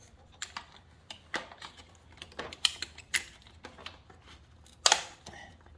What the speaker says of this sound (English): You need to hear all 4 tabs.